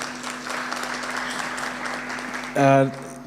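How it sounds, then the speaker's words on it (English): An audience at a university report launch claps for a speaker in a steady, moderate patter of many hands. Near the end a loud tonal burst cuts briefly across the applause. "Let's clap for her, please."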